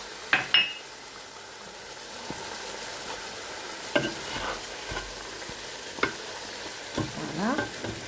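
Sweet paprika, turmeric, salt and pepper sizzle softly in a pan for couscous as a utensil scrapes and clinks against it in irregular stirring strokes, quiet and close.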